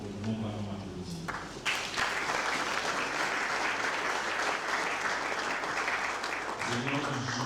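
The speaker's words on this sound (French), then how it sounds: "Nous allons applaudir." A crowd at a jubilee colloquium in Kinshasa breaks into loud, sustained applause that swells in after a brief lull and carries on densely. Voices and some amplified sound can be heard underneath at the start and end.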